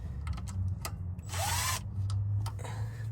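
An impact wrench removes a bolt during fuel pump work, giving loud close bursts of hammering chatter with short gaps between them over a low mechanical hum.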